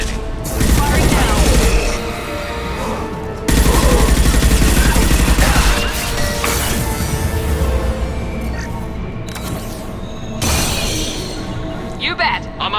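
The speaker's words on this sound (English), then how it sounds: "Concussive shot ready. Firing now." Gunfire and mechanical weapon clatter during a Mass Effect 2 firefight as a concussive shot goes off, with loud dense bursts and impacts that stop and start. Game voices speak over parts of the noise.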